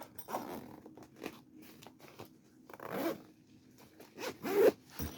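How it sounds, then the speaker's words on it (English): A triple zipper on a military assault pack is pulled open in several short, rasping bursts up close, with quiet handling noise between pulls. "So very interesting. Triple zipper setup."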